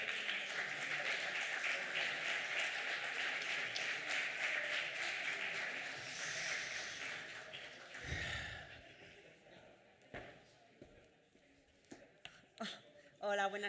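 An audience at a cultural heritage conference in Aragon applauds a speaker, with strong continuous clapping for about eight seconds that then thins out into a few isolated claps and low murmurs.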